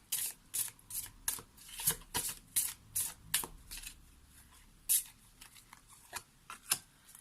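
Oracle cards are handled and shuffled in a steady, irregular series of crisp riffling snaps and slides, close and clear, with no talking.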